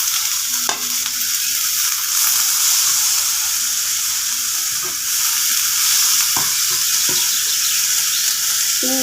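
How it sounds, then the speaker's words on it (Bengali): Shrimp fry in a little mustard oil in a pan, giving a loud, steady sizzling hiss throughout with a few faint clicks from the stirring, and no voices. "চিংড়ি মাছগুলো সুন্দর করে নেড়ে চেড়ে ভালো করে ভেজে নেব।"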